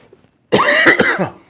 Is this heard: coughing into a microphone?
yes